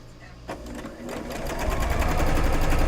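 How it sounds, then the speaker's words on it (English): A sewing machine stitching quilt pieces for a 3 Yard Cut Time Machine pattern, starting with a few slow stitches and speeding up into a steady, close mechanical whirr. "So I'm coming down the home stretch of getting these just sewed up."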